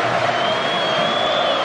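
Football crowd at an Algeria versus Benin friendly match in 2019, a steady dense roar of cheering and applause from the stadium stands, continuous and fairly loud over the brief moment.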